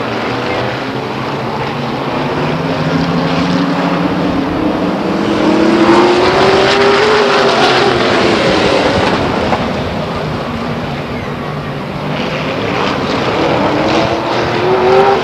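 Race cars circle Stockton 99 Speedway in 2001, a loud, continuous engine drone whose pitch rises and falls as the pack passes, with a faint voice over the track noise.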